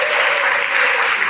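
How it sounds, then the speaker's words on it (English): Steady applause from an audience fills the whole moment, a dense even wash of clapping. "Let's give them a welcome round of applause."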